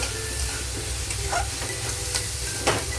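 Pointed gourd seeds, onion, garlic cloves and split green chillies frying in a pan, a continuous close sizzle with light stirring scrapes and occasional crackles.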